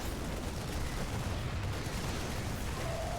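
A siege tank fires in StarCraft II during a competitive match, heard as a dense, continuous roar of gunfire-like blasts that runs without a break and fills the whole stretch at an even loudness.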